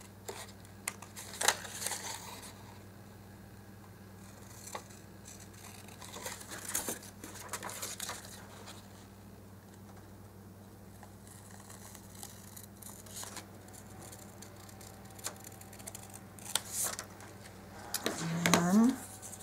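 Scissors cutting out a paper dust cover for a miniature dollhouse book, soft intermittent snips and paper rustles at close range, faint and sparse, with a steady low hum beneath and a brief squeak near the end.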